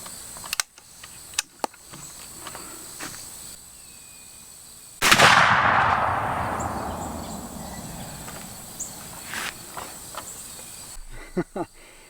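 A Hawken .50 caliber black powder muzzleloader fires a single loud, booming shot with a long rolling decay outdoors, loaded with 70 grains of black powder and a round ball; faint clicks and handling noises come before and after it.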